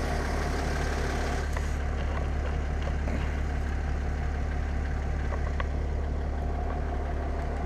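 A tractor engine runs steadily while sowing wheat in a dry field, a constant low rumble that stays close and even throughout with faint clicks over it.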